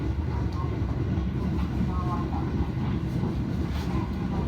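A train rolls along at reduced speed in strong wind, with a steady low rumble and rushing noise throughout, heard from inside the train.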